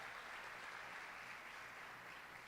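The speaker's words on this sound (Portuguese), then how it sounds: "dá um aplauso igual de arena para Jesus aí" Church congregation in an arena-style worship service applauding together, a steady broadband wash of clapping that stays even and sustained throughout, fairly distant and diffuse with no voices standing out.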